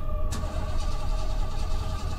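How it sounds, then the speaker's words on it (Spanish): A car engine failing to start in the Fears to Fathom horror game, a sharp click followed by a sputtering, churning starter motor that cranks steadily without catching. "El coche no volvería a arrancar nuevamente"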